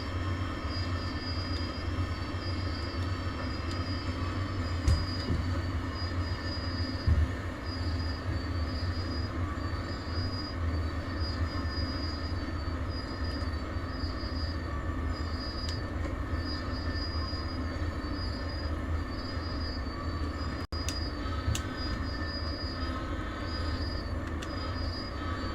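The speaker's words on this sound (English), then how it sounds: "I see a train." Steady rumble of a train running in the Train Sim World 2 video game, with continuous rolling noise, faint metallic squeals and occasional clicks, constant and alone throughout.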